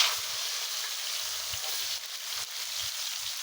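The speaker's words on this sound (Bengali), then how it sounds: "এই তেলেতে আমি আলু আর আমার এই যে কাঁঠালের রেসিপিগুলো আমি দিয়ে দিব।" Potato and jackfruit pieces fry in hot oil with a steady, continuous sizzle, the spatula giving occasional soft scrapes and knocks against the pan.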